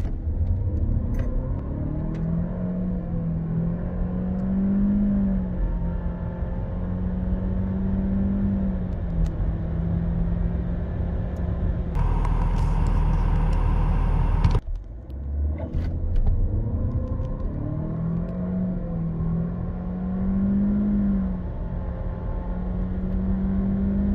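A Renault Austral with the 1.3 TCe 160 hp petrol engine and CVT gearbox accelerates, its steady droning engine note swelling smoothly in pitch from inside the cabin, with a brief hissing burst midway and no talk.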